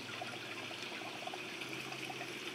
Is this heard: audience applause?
no